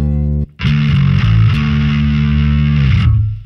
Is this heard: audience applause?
no